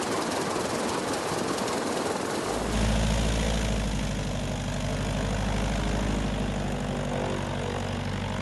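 A Piper Cub airplane engine catches about a third of the way in and settles into a loud, steady propeller drone with a throbbing low rumble that holds close and unbroken to the end.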